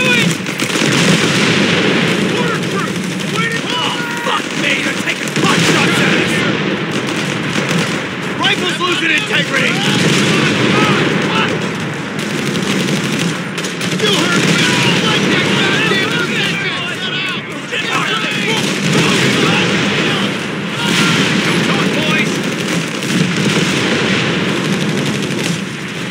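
Dense rifle and machine-gun fire with scattered explosions from the World War II strategy game Company of Heroes 3, a continuous loud battle mix with voices shouting over it.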